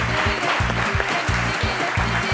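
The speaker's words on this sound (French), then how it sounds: "Qu'on applaudit bien évidemment puisqu'elle est venue avec son fan club." Studio audience applauding a guest's arrival on a lunchtime television show, a continuous bed of clapping over a steady pulsing background music beat, at moderate loudness.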